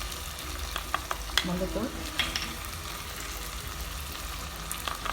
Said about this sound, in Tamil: வெங்காயம் நல்லா வதங்கினதும் நம்ம கட் பண்ணி வச்சுக்கிற தக்காளி சேர்த்துடலாம். தக்காளி ஒரு 2 நிமிஷம் வதங்கினதும்